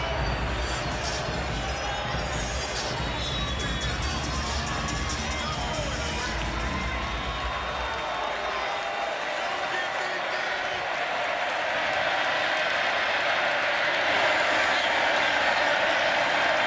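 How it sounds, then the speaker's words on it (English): A packed college football stadium crowd roars and applauds during Kansas State at Baylor at McLean Stadium, a dense, sustained wash of cheering that holds steady for the whole stretch, with a commentator talking over it. "Crowd here at McLean Stadium standing."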